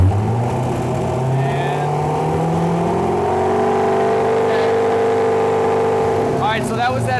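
An LS V8 engine swapped into a Porsche 911 holds a steady rev around 3000 RPM, a loud, even droning hum that rises slightly and holds, with a brief spoken word and some clatter near the end.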